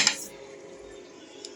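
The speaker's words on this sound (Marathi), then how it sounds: "हे सगळं जेवण बनवायला कुकर आणलेलं आणि असला हे तावा आणलेला" Metal cookware being handled, a tawa griddle and pressure cooker, with a sharp clatter at the start, then a low fading ring and a faint tap near the end, close by and with no one talking.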